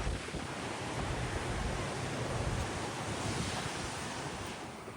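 Sea waves wash against the base of sheer coastal cliffs near Newcastle, New South Wales, a continuous broad roar of surf mixed with wind buffeting the microphone, with no voices.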